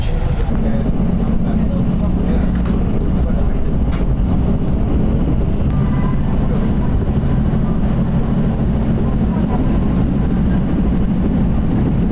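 A passenger train pulls out of Sasang station, heard from on board as a steady, loud low rumble of running gear that continues without distinct breaks.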